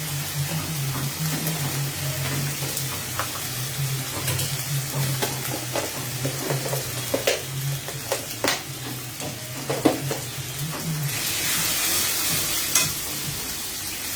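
Liquid added to a frying beef masala for biriyani sends up a steady sizzle with scraping stirs and scattered crackles, rising into a brighter hiss near the end over a low hum.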